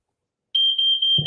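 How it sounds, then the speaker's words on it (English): A household smoke detector shrills with a single sustained high-pitched tone that cuts in suddenly and holds steady, loud and close, with a brief low thump near the end. "Them damn smoke detectors tell on you every time."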